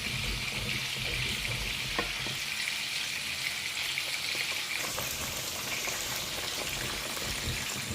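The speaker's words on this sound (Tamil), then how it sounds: "இப்போ இதில் கொஞ்சோண்டு கறிவேப்பிலை சேர்த்துக்கலாம். இது நல்லா வதங்கணும்." Tomatoes, onions, chicken and curry leaves fry in a pan, giving a steady, dense sizzle that carries on without a break at a moderate level, with no voices.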